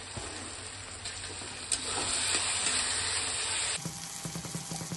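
Mutton with tomato sizzles loudly in a hot pan as it is stirred, a dense continuous frying hiss with scraping stir strokes toward the end.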